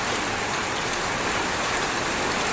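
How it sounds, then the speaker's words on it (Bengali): Heavy rain pouring steadily outside a rural Bengali home during a storm, a dense continuous hiss with no break and no voices. "তখন দেখলাম যে নামছে আবার জোরে বৃষ্টি"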